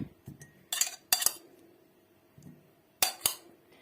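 Pieces of pan-fried meat are spooned into small clay pots, giving scattered metallic clinks and dull knocks of utensil against pottery in short bursts with quiet gaps between.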